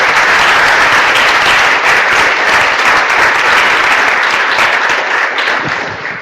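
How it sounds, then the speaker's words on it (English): A crowd at a public health talk on climate gives a long, loud round of applause that holds steady and then begins to fade at the end. "a big round of applause for the whole community of public health who are advocating for this topic"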